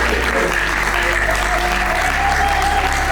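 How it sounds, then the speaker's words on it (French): An audience at an agricultural colloquium in Kinshasa applauds a rural woman, dense continuous clapping from a large crowd that stays loud and steady throughout. "Est-ce qu'on peut acclamer la femme rurale?"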